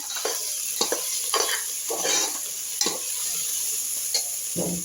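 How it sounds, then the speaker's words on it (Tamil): Onion, green chili and ginger sauté in hot oil while being stirred, a soft continuous sizzle broken by several sharp scraping strokes of a spoon against the pan, close up with no voices. "வெங்காயம் பச்சை மிளகா போட்டு வதக்கிட்டுருக்கோம்"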